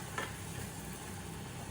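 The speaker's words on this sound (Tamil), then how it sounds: "இதை கிளறி போட்டு" Potatoes being stirred in a cooking pot after a little hot water is added to boil them, giving a brief scraping stir near the start over a steady low kitchen hiss, with no talking.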